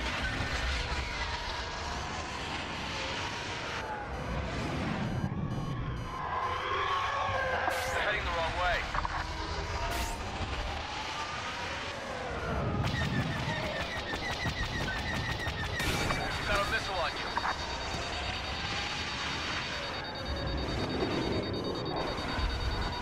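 A beeping homing-missile lock-on warning sounds during Star Wars Battlefront gameplay, mixed with rumbling engines, blaster fire and radio voice callouts throughout.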